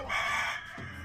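Chickens at a haunted chicken house attraction: a rooster crows once loudly and up close, then the crow cuts off into softer clucking, with no talk.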